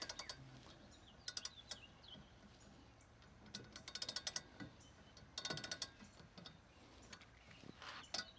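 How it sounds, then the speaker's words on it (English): A torque wrench ratchets while tightening a bolted joint on an OT 120 PDL Pro kayak, with quick bursts of crisp clicking separated by quieter pauses, close and fairly soft, with no talking. "So this particular joint I do tighten up with the torque wrench."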